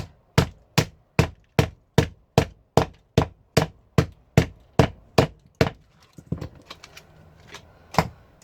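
Sharp, evenly spaced hammer strikes on scrap metal from transformers and motors ring out about sixteen times in steady rhythm, close and loud, then trail into a few scattered knocks.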